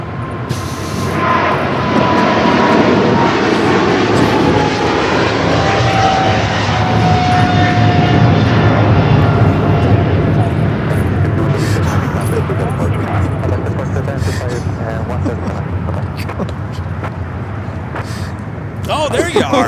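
China Airlines Cargo airplane taking off at LAX: a loud, sustained jet engine roar that swells and slowly fades, with people talking over it.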